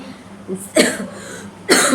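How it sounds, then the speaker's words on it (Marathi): Two sharp dry coughs, the first a short burst and the second louder a moment later, close to the listener with quiet pauses. "कोरडा खोकला यायला लागलाय"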